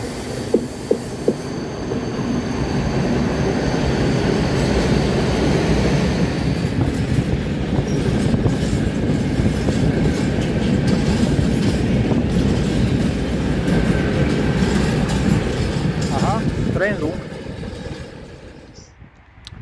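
A București–Brașov passenger train rolls past a station in the Prahova Valley near Sinaia, a loud continuous rumble with rhythmic wheel clatter and brief squeals, close by, fading near the end.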